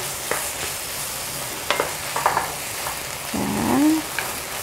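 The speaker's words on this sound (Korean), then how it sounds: "그래서 국물이 줄어들 때까지 좀 많이 볶아주세요." Dried radish strips stir-fried in a pan with sauce until the liquid reduces, giving a low sizzle under scattered spatula scrapes and clicks, plus a brief squeaky tone near the end.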